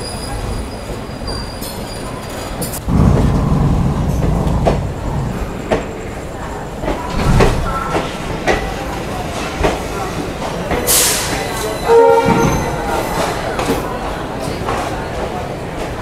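A passenger train rolls into Tiruchirappalli Junction with a loud, continuous rumble, squealing wheels, clattering and occasional heavy thumps, with voices heard now and then.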